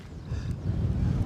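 Low, steady fan noise picked up by a microphone in a broadcast box at a live plane-spotting stream by Edinburgh Airport, a dull rumbling hum that swells slightly over about a second, with no speech.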